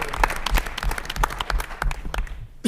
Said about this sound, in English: please join me for one more round of applause for all of our Titan Award recipients